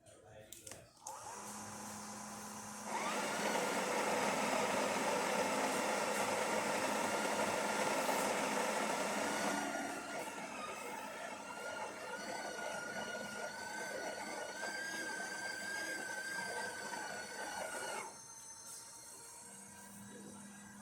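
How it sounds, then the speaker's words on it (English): A Breville Oracle Touch espresso machine, freshly serviced with a new gasket, pulls an espresso shot: a steady pump hum and whir that swells after a brief start, runs for several seconds, then eases to a lower drone before stopping. "let's go ahead and make espresso shot and test the machine"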